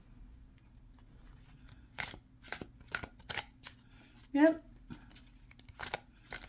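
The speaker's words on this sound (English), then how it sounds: "Let's do some overhand shuffling." Tarot cards are shuffled overhand in quick, irregular bursts of soft slapping and riffling, with a brief spoken word partway through.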